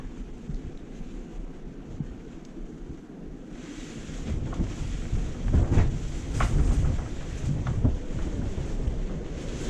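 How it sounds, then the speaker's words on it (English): Harsh wind with rain batters a boat under repair, a steady roaring rush that swells sharply partway through into loud, gusting blasts against the microphone. "Wind kind of just turned up."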